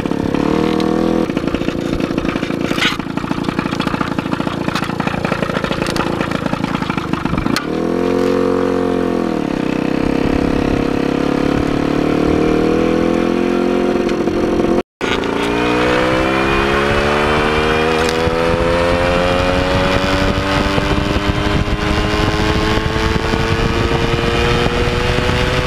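A Ciao moped's small engine drones loudly and continuously during an on-board ride, rising and falling in pitch as it revs, drops off and accelerates again, with wind noise throughout.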